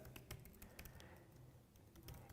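Fingers tap an email address on a computer keyboard in a quick, faint run of close key clicks, with no one talking.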